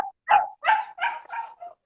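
A dog barking close by in a quick run of five or six sharp yaps, evenly spaced and alone with no talk.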